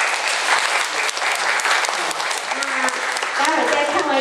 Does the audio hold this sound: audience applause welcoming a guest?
yes